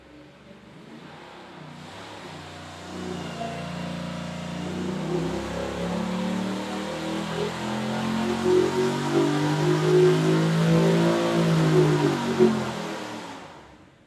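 A 416ci LS V8 with a Fast 102 intake revs on a dyno, its loud, steady engine roar climbing in pitch and volume over several seconds, then cutting off sharply at the end, with no talk over it.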